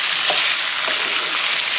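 Mutton liver sautéing in a pan for liver fry, a dense, close hissing sizzle that holds steady, broken by faint stirring scrapes.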